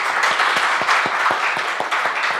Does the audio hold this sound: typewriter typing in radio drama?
no